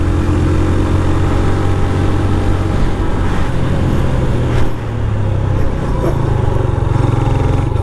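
A Honda CB 150F motorcycle, 2021 model, labouring uphill in fourth gear, its engine droning steadily and loud throughout with a brief dip near the middle, no voices present.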